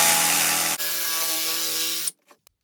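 A jigsaw cuts through a wooden fence picket with a steady, loud, close buzzing whine that shifts pitch partway through, then stops abruptly, followed by a couple of faint clicks.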